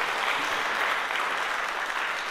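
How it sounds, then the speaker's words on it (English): Dense, sustained applause from a concert audience cheering a cellist at a college choir fall concert, a steady wash of many hands clapping with no gaps. "Let's give it a one more applause for our wonderful cellist, Miss Partida, here on the cello."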